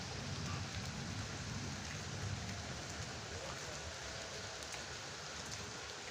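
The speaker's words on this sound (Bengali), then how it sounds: "এই দেখুন বাইরে বৃষ্টি হচ্ছে, দেখুন বৃষ্টি পড়ছে" Steady rain falls outside at night, a dense constant hiss and patter on surfaces that holds at an even level throughout, fairly soft and uninterrupted, with no voices over it.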